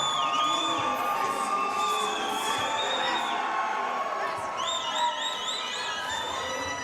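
An arena crowd at an MMA event cheers and roars steadily as fighter Chris Lewis walks into the cage, with whistles and high shouts rising above the sustained noise.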